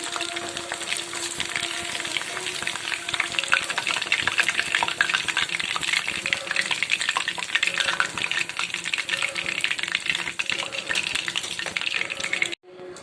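Chicken lollipops deep-frying in hot oil, a steady dense sizzle and crackle that runs unbroken for about twelve seconds and then cuts off abruptly.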